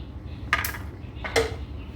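Two sharp, crisp snaps about a second apart as a roasted almond breaks, each a brief crackling break against a quiet background.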